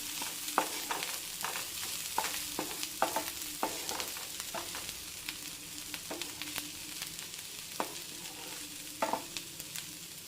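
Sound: stirring food in a pan after opening the lid

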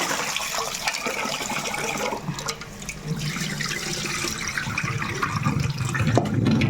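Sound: rinsing rice in water

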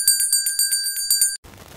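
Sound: bell ring sound effect

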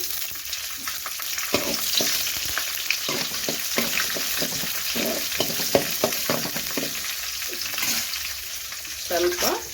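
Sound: mustard seeds, chana dal, urad dal and green chillies frying in oil

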